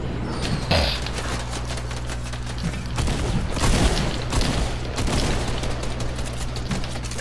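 Rapid bursts of gunfire in a multiplayer shooter video game, sounding as dense, continuous shooting with heavy thuds over a steady background drone.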